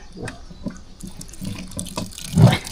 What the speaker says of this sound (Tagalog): Tapos, siyempre tubig. Yung tubig natin.